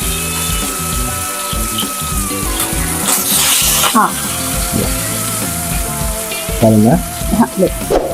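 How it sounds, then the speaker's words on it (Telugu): Fish deep frying with curry leaves in hot oil makes a loud, surging sizzle with stirring clatter and bursts of spattering, over a melodic background. "ఇప్పుడు సిమ్ చేసుకోండి, కొంచెం స్లోగా అయితే సిమ్ హై చేసుకుంటూ ఇది డీప్ ఫ్రై చేసుకోవాలన్నమాట."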